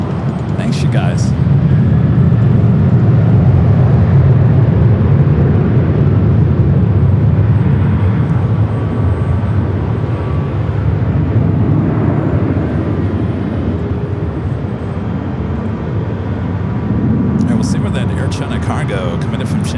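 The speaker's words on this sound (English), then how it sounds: "Cargo coming in from Shanghai, the 777 freighter ends up now making a turn, that bank turn" A Boeing 777 freighter arriving from Shanghai banks into a turn near LAX, its engines a low, steady rumble that swells and eases gently over a long stretch. A few brief sharper noises rise at the start and end.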